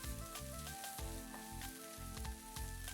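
Pork tenderloin sizzles steadily in a Dutch oven on a Nuwave induction cooktop, a dense crackling fry with a faint electronic whine running underneath.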